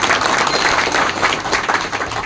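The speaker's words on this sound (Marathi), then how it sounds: "त्यांचं टाळी वाजून अभिनंदन केलं पाहिजे" A crowd at a Kunbi caste certificate distribution ceremony in Pangri breaks into steady, dense applause, many hands clapping together without pause for the whole stretch.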